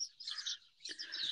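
Small birds chirp and tweet steadily in a rain-soaked backyard garden on a clear day, a dense, bright twittering that carries on without pause, with no voices over it.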